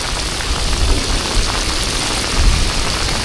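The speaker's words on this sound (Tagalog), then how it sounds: "Oh, grabe ang ulan oh." Heavy rain pours down outdoors near water in a loud, dense, unbroken hiss with a low rumbling undertone, and no voices are heard.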